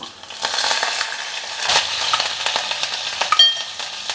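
Garlic, mustard seeds, cumin, dried red chillies and curry leaves crackle and spit in hot oil, a dense, close frying hiss with scattered sharp pops and stirring scrapes, no voices.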